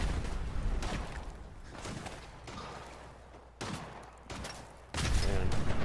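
Rifle gunfire and other weapon fire crack out in a post-apocalyptic shooter game, several sharp loud reports over a dense, rumbling backdrop of ongoing combat.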